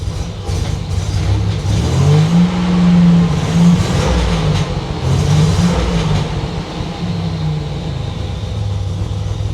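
A 1987 Buick Grand National engine that is running poorly, revving up and down in a few uneven swells over a rough idle, loud and close with no talking.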